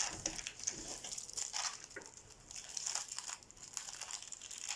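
Plastic wrapping crinkles and rustles as it is peeled off watercolor paint packages, a quiet, close, irregular crackling with no voices.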